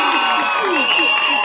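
Wedding guests at a ceremony where one man marries four women cheer and applaud together, a short burst of overlapping voices with high sustained calls over clapping, close and loud.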